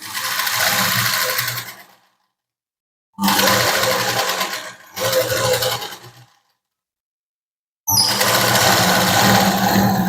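A sewing machine runs in four bursts stitching the shoulder seam of a katori blouse, with its rapid needle rattle starting and stopping between short silent pauses, heard on its own without talk.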